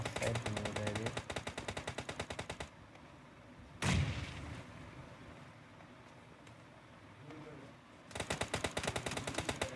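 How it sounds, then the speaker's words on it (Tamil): Rapid automatic gunfire bursts in the PUBG video game, loud dense volleys opening the clip, a single heavy blast near the middle, then quieter ambient stretch before another fast loud burst of shots at the end. "பயங்கரமாக ஃபயர் பண்ணி விடுறாரு."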